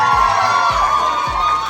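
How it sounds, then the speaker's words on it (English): Girls at a wedding party scream and cheer together in a loud, sustained, high-pitched burst, close and crowded, with a few deeper thumps underneath. "All the girls scream for the boys."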